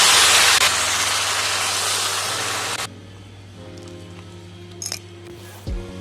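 Hot water is poured into a pan of katla fish curry, a loud broad hissing rush for about three seconds that stops abruptly, followed by quieter simmering with a few light clinks of utensils.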